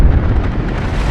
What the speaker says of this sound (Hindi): ये धमाका इतनी तेजी से, इतने अचानक से हुआ